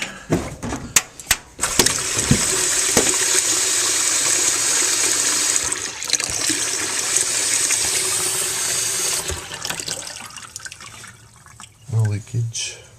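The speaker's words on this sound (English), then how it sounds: "Turn on the water." Water gushes hard from a repaired Delta washerless faucet after a few clicks and knocks, running steadily before tapering off, with someone speaking briefly near the end.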